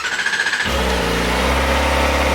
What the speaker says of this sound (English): here's a little clip of what the stock OEM exhaust sounds like